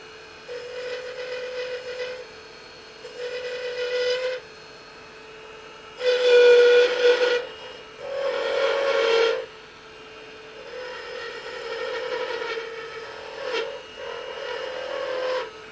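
A 1/2-inch spindle gouge cuts into a spinning wood blank on a lathe as a honey dipper is turned. It makes a loud, steady scraping whine in several sustained bursts with short pauses between them, and no one speaks.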